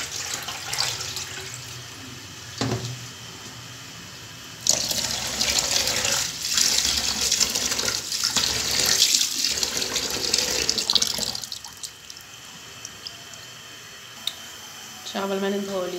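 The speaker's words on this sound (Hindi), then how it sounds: "चावल मैंने धो लिए।" Tap water runs into a kitchen sink while rice is washed for dal chawal, a loud steady rush lasting several seconds mid-clip, with quieter handling sounds and some voice before and after.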